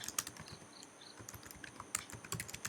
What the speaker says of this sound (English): I for insert, and then type a particular line